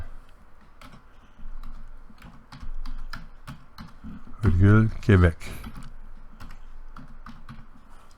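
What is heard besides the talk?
typing on a computer keyboard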